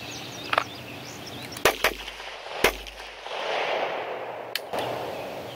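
Live pistol shots at a target during a fighting pistol class in North Carolina, two sharp reports about a second apart and a third a couple of seconds later, loud against outdoor background noise.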